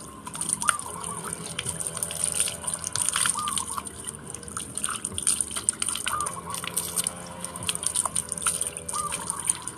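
Water splashes and drips steadily while a young male breeding dog is bathed at home, a continuous close wet spatter with running tap water, and a voice now and then over it.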